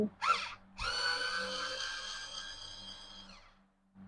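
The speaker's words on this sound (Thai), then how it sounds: "ขันน็อตเอาคานออกเราก็จะใช้อุปกรณ์ไขควง ไฟฟ้าเล็ก" A small electric screwdriver removing the bolts from a curtain rail, giving a short buzz and then a longer, steady whirring run that winds down, close and clear.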